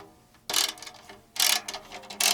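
Three short bursts of quick mechanical clicking from the gears of a drum key turning a drum head bolt, turned in spurts, close and fairly quiet with pauses between.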